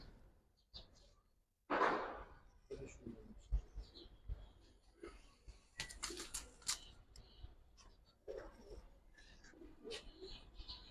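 Silver Giribaz pigeons coo softly in a quiet space, faint scattered calls with an occasional wing flutter and light background noise.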